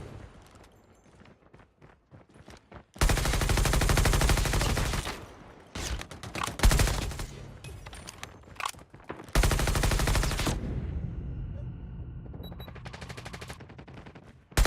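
Automatic weapon fire in Call of Duty Mobile, several long sustained loud bursts separated by quieter gaps with scattered single shots.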